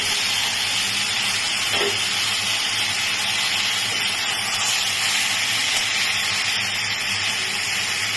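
Tangra fish dropped into hot oil for chorchori, a steady, loud broadband sizzle that holds evenly throughout with no talking over it.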